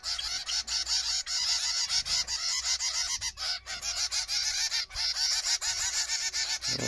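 Zebra finch fledglings in an aviary aviary chorus rapidly with dense, nasal begging calls and chirps, a continuous busy twittering that runs loud and close throughout, with only brief gaps.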